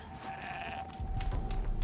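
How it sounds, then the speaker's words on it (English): A goat bleats in wavering calls at a middle distance in the video game Horizon Zero Dawn, over a low rumble of background noise; no one speaks. "I hear a goat."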